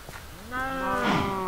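Baby cow mooing in the Minecraft modpack Agrarian Skies, one close, loud, drawn-out moo that rises and holds, preceded by brief faint game sounds.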